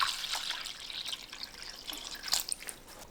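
Water trickles and splashes into a bowl holding red cabbage, soft irregular dripping and pouring sounds up close, with no talking.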